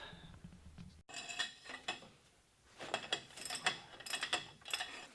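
Metal tool clicks and ratchets against brake caliper bolts on a Dodge Ram during wheel bearing work, a quick clatter of close mechanical clinks in two bursts with a short pause between.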